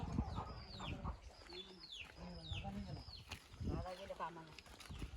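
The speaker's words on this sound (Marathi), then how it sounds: "बघा भरपूर मोठे मोठे कोंबडे आहेत इथे कोंबड्याचा खुराडाच आहे" A flock of large country roosters in a coop clucks and squawks continuously nearby, their calls overlapping, with faint voices underneath; the whole scene is fairly quiet.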